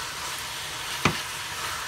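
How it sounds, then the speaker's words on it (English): Meat filling for a stuffed pumpkin fries in a pan with a steady, close sizzle. One brief scrape or stir near the middle interrupts it, with no talking. "So all we have to do now is just fry this up"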